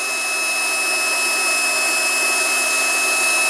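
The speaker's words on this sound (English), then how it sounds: "Get this induction heater on" An induction heater heats a turbo nut on a 1997 Detroit Series 60 diesel engine, giving a steady, loud, close hum with a high-pitched whine that holds constant throughout.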